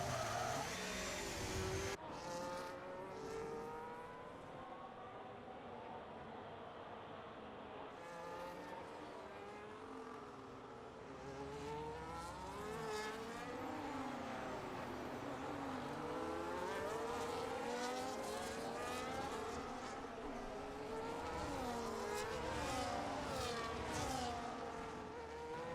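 Formula 1 cars in the F1 25 racing game scream around the Belgian Grand Prix circuit, high-revving engines rising and falling through gear changes as several cars pass, with tyre squeal and a steady loud roar throughout.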